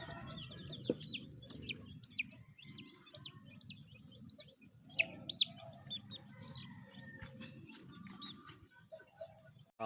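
Young Doble Nose gamefowl chicks peep and cluck in a repeated series of thin, high chirps, close by and fairly quiet, over low handling noise and rustling.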